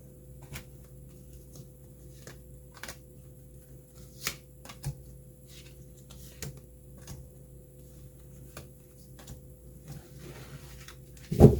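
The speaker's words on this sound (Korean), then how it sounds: "주별로 한번 카드를 뽑아볼게요." Tarot cards are shuffled and drawn by hand, with soft papery riffles and a series of light taps and flicks spaced out at close range in a quiet room, ending in a louder rustle.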